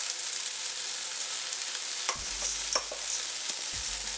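Three cups of washed long grain rice go into a pot for Mexican rice, adding a soft pouring rattle and a few low knocks midway over a steady, quiet sizzle.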